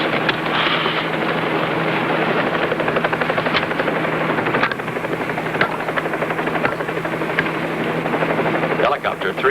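Loud, steady rotor thump and engine whine of a helicopter in flight, continuous throughout with voices talking over it.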